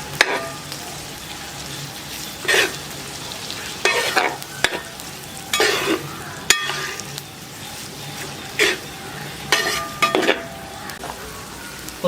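Sliced onions sizzle in a pan on a village-style wood-fired stove while preparing a squid roast, with steady frying and repeated scraping, clinking stirs of a spoon against the pan at close range.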